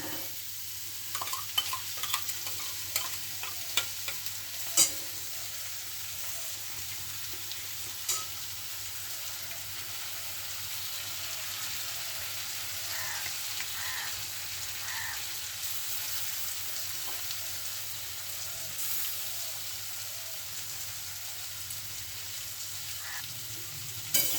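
Ground spice paste fries in a pan, a quiet, continuous crackling sizzle with light spoon scrapes and taps as it is stirred, steady and close, with no voices.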